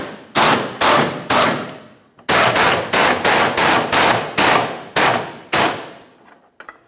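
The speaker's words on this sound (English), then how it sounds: "let's continue on to tightening each one of these nuts" Nuts on the fuel tank straps of a 1994-2002 Dodge Ram 2500 being tightened in a series of about a dozen loud, rapid rattling bursts, each short and abruptly cut off, with brief pauses between them.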